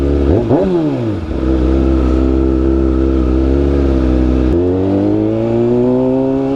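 A Ford Mustang Shelby revs in slow, heavy traffic in Dagupan, Pangasinan: a loud, close, steady engine drone with a brief throttle blip and dip early on, then a sustained rumble that shifts to a lower pitch near the end.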